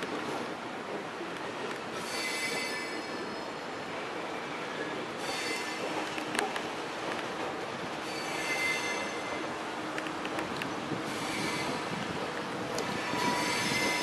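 A 2100 series train pulls out at the Lapa yard toward the workshop tracks, its wheels squealing in repeated high-pitched bursts over a steady rolling rumble throughout.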